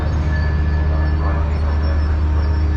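A steady, loud rumble of a double-decker train in motion near Los Angeles, with a constant low drone and faint rail whine throughout.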